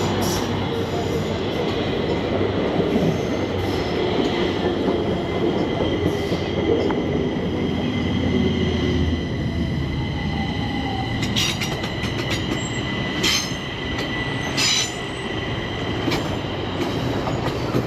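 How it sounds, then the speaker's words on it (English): A southbound Stockholm metro train pulls into Gullmarsplan station with a loud, steady rumble of wheels and motors, sharp squeals and clicks rising over the roar near the end, no voices present. "There's a southbound train coming in."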